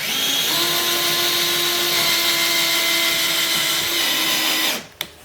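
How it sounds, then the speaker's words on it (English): A power drill whirs steadily at close range for several seconds, drilling a hole in a kayak, then winds down and stops, followed by a brief clack. "Drill through there."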